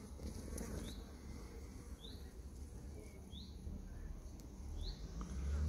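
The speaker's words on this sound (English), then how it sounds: "There's two or three different kinds of bees." Bees, two or three different kinds, buzzing among cardoon flowers outdoors, a steady faint hum with a few brief rising chirps over a low background rumble.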